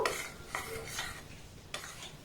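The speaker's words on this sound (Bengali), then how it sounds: "কাস্টার্ড পাউডারটাকে দুধের সাথে আমি একটু মেল্ট করে নেব" A spoon scrapes and clinks against a bowl while custard powder is stirred into milk for vanilla ice cream, with four or five distinct close strokes at irregular intervals and quiet between them.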